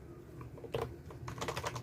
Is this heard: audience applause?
no